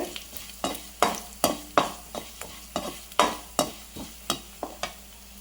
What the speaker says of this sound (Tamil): இதில் ரைஸை போட்டு கிளறிடுவோம்